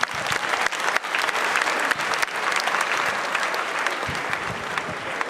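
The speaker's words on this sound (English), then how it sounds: "with a round of applause." An audience at a Ghanaian Securities and Exchange Commission event gives sustained, dense applause that stays loud and even throughout.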